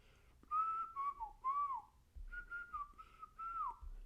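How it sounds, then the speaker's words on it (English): A person whistles a short melodic tune, clear and close, in two wavering phrases separated by a brief pause. "Imagine if I got a strike for whistling."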